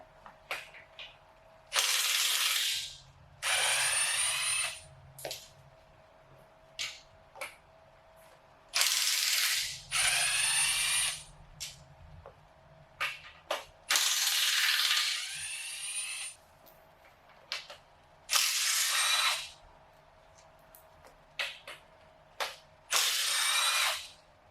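Loud bursts of a power tool loosening bolts on a K24 engine during teardown, whirring and rattling in short repeated runs, separated by brief pauses with faint clicking and mechanical noise.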